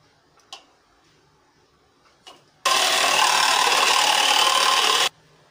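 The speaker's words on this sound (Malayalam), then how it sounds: "ഇനി ഇത് നല്ലതുപോലെ ബീറ്റ് ചെയ്തെടുക്കാം." Chocolate cake batter with milk is beaten in a bowl, heard as a steady, loud broadband whirring for about two and a half seconds after a couple of light knocks, then it stops.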